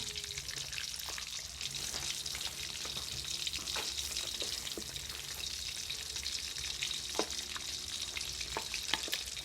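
Mackerel frying in hot oil in a pan gives a steady, dense sizzle and crackle with scattered sharp pops and spits, close and even throughout, with no voices.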